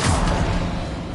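Incendio fire spell cast in Hogwarts Legacy, a loud, dense whooshing burst of flame with a rumbling low end that holds steady across the moment.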